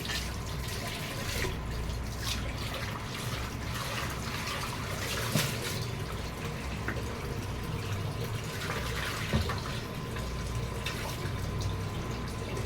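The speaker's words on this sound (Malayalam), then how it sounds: "ഞാൻ പൈപ്പ് തുറന്നിട്ടിട്ടാണ് കഴുകുന്നത്" Tap water runs steadily into a sink while fish (sardines) are washed, a continuous hissing flow with faint drips and splashes, close and unbroken, with no talk.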